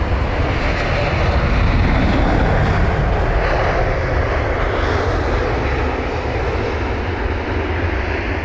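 Jet airliner at London Heathrow, either a Boeing 777-300ER or an Airbus A330neo, on a dark, gloomy day: a loud, steady broadband engine roar that holds throughout with a slow tonal sweep, near and continuous.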